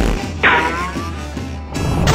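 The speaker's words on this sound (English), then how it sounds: "Say, Jeremy, do you hear some crunchy rolling coming in fast?" A boulder crashes in a heavy rumbling smash, followed by a low rolling thunder and a second loud impact near the end.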